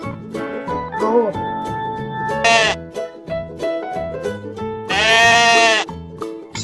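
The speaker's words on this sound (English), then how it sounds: "Goat." A goat bleats repeatedly, close and loud, with several short wavering calls and two longer, strained cries, no talking over them.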